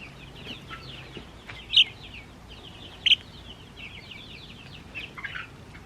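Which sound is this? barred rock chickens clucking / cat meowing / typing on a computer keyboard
barred rock chickens clucking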